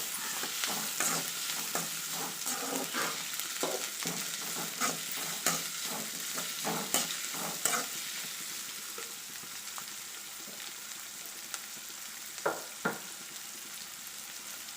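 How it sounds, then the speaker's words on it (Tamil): Onions, garlic and curry leaves sizzle steadily in a hot pan for tomato rice, with repeated scraping of a spoon as the mixture is stirred, close and clear. "இப்போ வெங்காயம் கொஞ்சம் வதங்கட்டும்."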